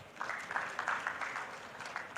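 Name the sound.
audience applause for a speaker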